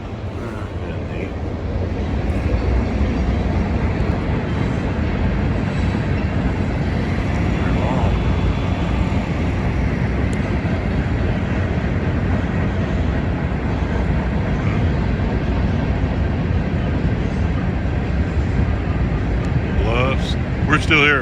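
A passing train along the Mississippi River makes a loud, steady rumble lasting the whole stretch, mixed with wind buffeting the microphone on a riverboat, with people talking now and then.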